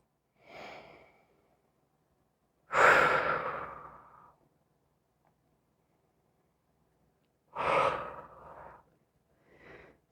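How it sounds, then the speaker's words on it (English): Slow, deep breaths during a vinyasa yoga flow: a soft inhale, then a long audible exhale, another long breath, and a brief final breath, each separated by silence and heard close up. "Breathe here for just a couple breaths."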